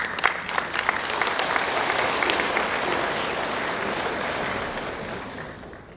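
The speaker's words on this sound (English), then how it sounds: "Give him another round of applause," An audience claps steadily for a doctor taking the stage to speak on vegetarian diets and the environment, sustained applause lasting several seconds before fading toward the end.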